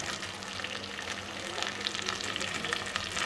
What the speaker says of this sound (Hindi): भिंडी में ऑयल थोड़ा सा ज़्यादा जाता है। अब इसमें मैं डाल दूँगी भिंडी।